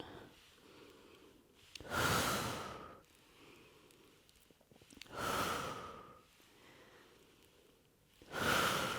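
Slow, deep breaths during a gentle shoulder and arm stretching exercise, three long breathy exhales rising at regular intervals over quieter inhales, close to the microphone and with no talking.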